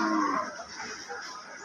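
A single cow lows at a crowded cattle market, a short, loud moo right at the start that fades into low background murmur.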